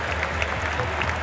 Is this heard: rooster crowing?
no